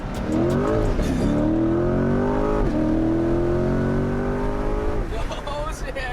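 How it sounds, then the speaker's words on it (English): A rebuilt Chevrolet C8 Corvette's engine, loud and close, winding up and easing off in several rising and falling rev sweeps before it drops back near the end. "Give them a little rev."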